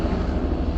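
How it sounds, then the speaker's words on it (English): A helicopter flying overhead, a steady low rumbling engine drone holding loud and constant throughout the brief moment with no voices. "Listen to the helicopter."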